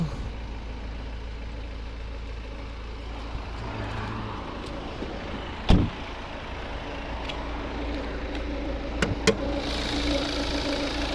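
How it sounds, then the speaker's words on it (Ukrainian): A 2014 Volvo V60 2.0-litre D4 diesel engine idles steadily with a low, even rumble and faint knocking, joined by a few brief clicks and clunks nearby. "Ось робота двигуна."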